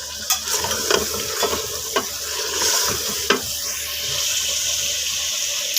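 Chicken fries in a pan for a home-style chicken biryani, with a steady sizzle, intermittent scraping and clinking of a stirring utensil, and some water running in the background.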